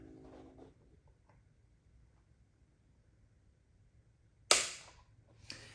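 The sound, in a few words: trigger break of Taurus TX22 pistol during trigger pull test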